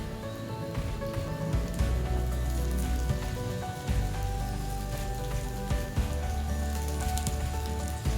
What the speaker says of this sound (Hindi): ये देखिए बहुत ही अच्छी तरह से फ्राई हो रहा है।